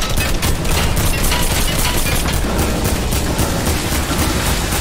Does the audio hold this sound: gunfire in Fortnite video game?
yes